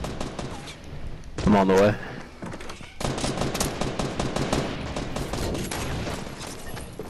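Rapid bursts of automatic gunfire in a multiplayer shooter video game crackle and rattle almost continuously, loud and dense, with excited players talking over the shots.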